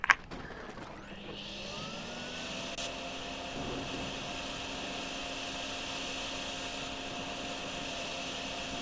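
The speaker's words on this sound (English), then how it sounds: "How much water do you suppose I can suck up with the vacuum?" A vacuum sucks up floodwater in a flooded town, giving a steady, loud broadband roar with a sustained hum that starts after a brief clatter and runs unbroken to the end.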